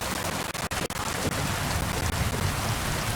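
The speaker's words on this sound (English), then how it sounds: "It rains slow." Steady rain in the video game Kingdom Come: Deliverance II, a dense, even hiss of falling rain with a few faint soft thumps early on, continuous and moderately loud.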